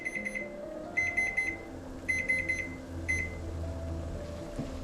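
An electronic kitchen timer beeps in short rapid clusters, four groups about a second apart, over a low background hum.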